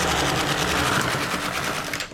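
A knitting machine carriage slides across while knitting a child's pleated skirt, giving a close, continuous rattling mechanical whir for about two seconds, with no voices.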